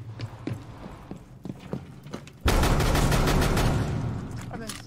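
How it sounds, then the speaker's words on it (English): Bursts of gunfire from the tactical shooter Rainbow Six Siege: a few scattered shots early on, then a sustained loud volley of rapid fire that continues for the second half, with no talking. "I heard the gunfire"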